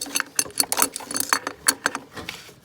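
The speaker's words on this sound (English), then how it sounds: "And then I'll use the crescent wrench here" Light metallic clicks and ratcheting taps come from a crescent wrench tightening a fuel filter, in quick irregular bursts close by.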